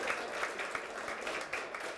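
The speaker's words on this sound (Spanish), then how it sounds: "un fuerte aplauso para el doctor Alejandro Villalobos" Audience applause for a lecturer after a talk on Teotihuacan, heritage and civil society, dense and steady clapping from a hall crowd with no voices over it.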